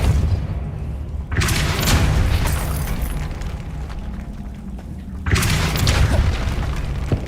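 Two heavy booming blasts from the Depulso force spell in Hogwarts Legacy, about four seconds apart, each a loud close burst followed by a rumbling tail over constant game ambience.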